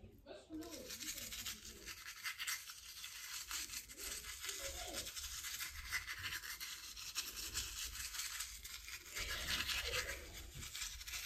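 Teeth being brushed with a toothbrush: rapid, close scrubbing strokes continue steadily throughout, with no pause.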